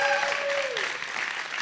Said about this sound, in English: Give Jennifer a big round of applause